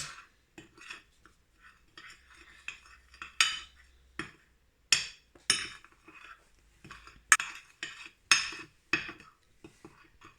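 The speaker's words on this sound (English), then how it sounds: "Now 1 tablespoon vinegar. Let's mix it." A spoon clinks and scrapes against a bowl while mixing a vinegar mixture, in short irregular bursts with quiet gaps between, close but soft.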